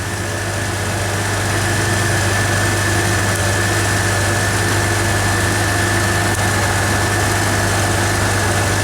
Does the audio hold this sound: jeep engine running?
yes